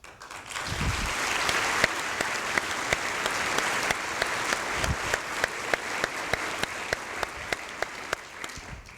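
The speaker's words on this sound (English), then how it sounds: "We're going to do a lot of clapping today" Audience applause at the OVC Class of 2023 professional welcome ceremony, a dense, steady roll of many hands clapping that continues through the whole stretch with sharp individual claps popping out.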